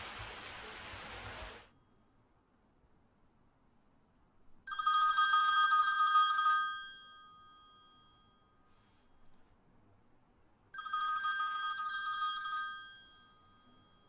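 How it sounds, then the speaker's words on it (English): A telephone rings in two separate loud bursts, each lasting about two seconds, with quiet gaps in between after a short stretch of noise at the start. "Is song finished or phone is ringing?"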